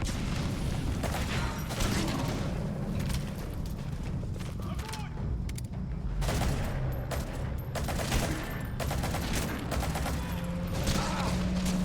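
Shotgun blasts going off repeatedly in Metal Gear Solid V: The Phantom Pain, dense and continuous game combat with mechanical clatter throughout, loud and close.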